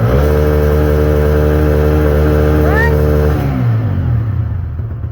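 A CNG motorcycle engine runs loud and close after its first service, holding a steady droning idle before its pitch drops and it settles lower and quieter toward the end.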